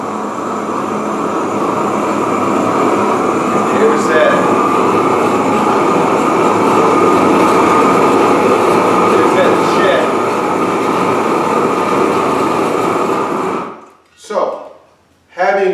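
A propane weed burner roars after being relit with the tank opened slowly, a loud steady broadband rush that holds for most of the stretch, then cuts out abruptly with a couple of brief sputtering bursts near the end.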